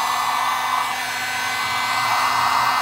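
A heat gun blows hot air with a steady, loud hair-dryer-like whoosh, used to warm parts while cleaning a US M1 .30 caliber carbine; the close, continuous roar runs unbroken with no talk.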